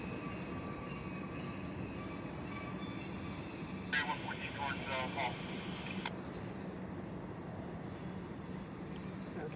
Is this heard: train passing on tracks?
yes